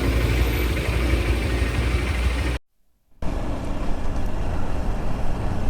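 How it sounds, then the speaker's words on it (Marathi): A motorbike engine runs steadily close by just after starting, a continuous broadband rumble that cuts out briefly for a moment of silence before resuming at the same level. "जस्ट चालू केलेली आहे बाईक"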